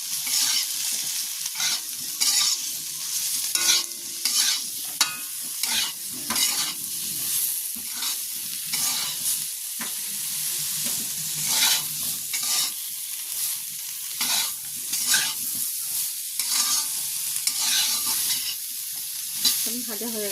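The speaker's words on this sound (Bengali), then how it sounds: "আবারও এগুলো ভালো করে নাড়াচাড়া করে ভেজে নেব।" Turmeric, chilli and cumin powder sizzle in hot oil as a spoon stirs and scrapes the pan in repeated strokes, close and loud throughout, with no talking.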